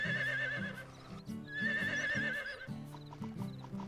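A horse neighs in long, wavering whinnies, twice over, while hooves clip-clop in a steady rhythm beneath them, in the farming video game Harvest Moon.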